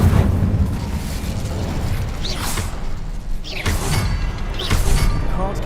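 An Incendio fire spell from Hogwarts Legacy goes off as a series of loud whooshing bursts and booms, three strong swells over a dense rumbling background.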